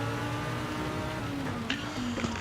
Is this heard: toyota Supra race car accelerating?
yes